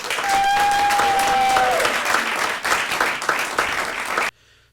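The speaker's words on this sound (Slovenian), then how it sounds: "en velik aplavz za vse" Loud, sustained applause from a festival audience at an awards ceremony for the event's helpers, dense clapping with a brief tonal whistle early on, cutting off abruptly near the end.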